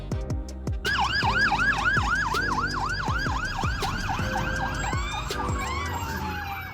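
A Hazmat Response Unit fire vehicle, used at incidents involving chemicals, radiation or hazardous substances, sounds a loud, rapid warbling siren that cycles steadily and close, then trails off in a falling wail near the end.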